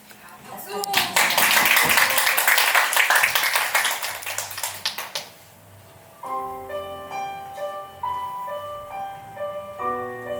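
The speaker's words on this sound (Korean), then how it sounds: "박수!" Audience clapping at a Korean book talk with an author, loud dense applause for several seconds that fades out before piano-like music begins.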